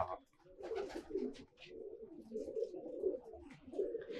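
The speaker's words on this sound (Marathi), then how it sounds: "हा कबूतर आहे ना नानूचा लय आवडीचा आहे" A red Dubbaj pigeon, a homer breed, coos in a soft, repeated, throaty rhythm close by over several seconds.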